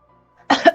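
A single short, sharp cough, close and fairly loud, after a moment of near silence.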